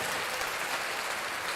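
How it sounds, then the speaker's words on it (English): A brief burst of dense audience applause for a caretaker, steady and continuous with no pauses or voices. "let's give the caretaker a round of applause"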